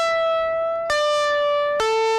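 A loud, bright synth saw line runs through a Distortion Tube Culture valve preset. Three sustained tones step downward, each starting with a sharp attack, with no voices.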